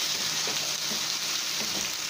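Marinated pork and potatoes fry in a pan with a steady, even sizzle and faint crackles, close and uninterrupted.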